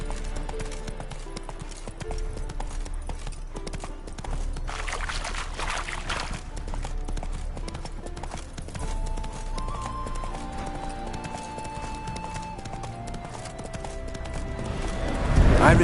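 Horse hooves clip-clop steadily through a video game scene, an even rhythmic trot heard close under game music and sound effects, with speech over it at times.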